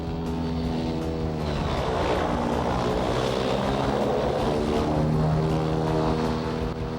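Airboat engine and big air propeller on an Outer Banks tour boat, a loud steady droning roar with strong low harmonics that holds close and continuous throughout, no talk.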